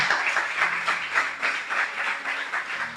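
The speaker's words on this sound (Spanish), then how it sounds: "le vamos a dar un fuerte aplauso, iglesia" A church congregation applauding steadily, a dense wash of clapping with a rhythmic pulse, sustained for several seconds without speech.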